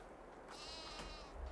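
Sheep on a farm in Farming Simulator 22 let out a single wavering bleat, faint and brief against soft background noise, with no one talking.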